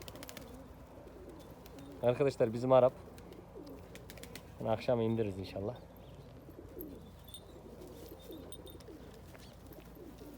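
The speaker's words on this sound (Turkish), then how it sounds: "Seni tanımayan kuşlar var yerde." Pigeons coo in two short, throaty bursts nearby while a person talks quietly, with faint chirps and rustling in the background.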